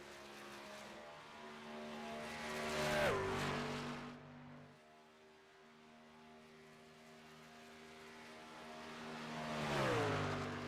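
NASCAR Truck Series pickups racing at Chicagoland Speedway, with the number 78 truck starting a timed lap. Loud engine roar swells as a truck passes close, fades, then builds again into a second pass with a falling pitch.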